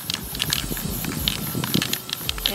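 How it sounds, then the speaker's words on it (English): Spray paint can hissing onto canvas over leaves in short, uneven bursts, close and moderately soft, with faint rustling. "then you just spray evenly, paint it evenly, back and forth"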